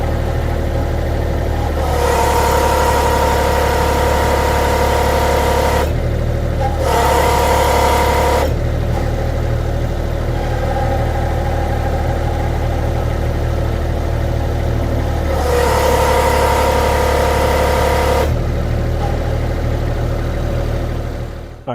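Kubota-powered CFG Industrial JK35 skid steer loader running steadily as its hydraulics curl the bucket, with a loud continuous engine drone and several stretches where the pitch rises under hydraulic load, no talking.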